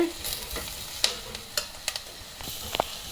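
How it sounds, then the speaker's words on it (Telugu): Spices fry in a pan for a potato tomato curry, with a gentle sizzle under scattered spatula scrapes and light taps at close range. "స్పైసెస్ వేసాం కదా అది ఫ్రై చేసుకుంటే బాగుంటుంది"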